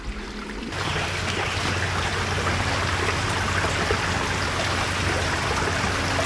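Running water from a stream beside a wilderness camp rushes in a loud, continuous, close wash that starts abruptly and then holds steady, with no talk over it.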